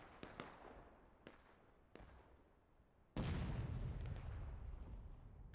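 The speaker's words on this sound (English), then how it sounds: "Let's take a look at artillery." Artillery fires at a shooting competition: a few faint, sharp distant reports, then one much louder blast that leaves a sustained rumbling roar.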